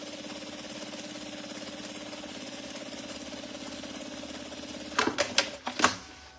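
A sewing machine runs a steady, rapid stitching drone while sewing the second seam of a crossbody bag, then stops and gives way to a few sharp clicks and knocks.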